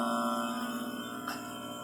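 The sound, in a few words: old Freon vacuum pump running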